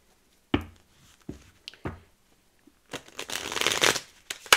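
A deck of cards being shuffled by hand: a few sharp taps and flicks, then a dense riffling burst that ends in a final snap, close and alone.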